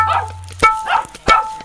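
A person imitates a dog during a truth-or-dare challenge, letting out three short, loud barking yips spaced evenly apart, close to the microphone.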